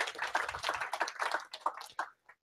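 A small meetup audience at a Python user group gives a speaker a short round of applause, close individual claps that thin out and stop after about two seconds, with a last few stray claps.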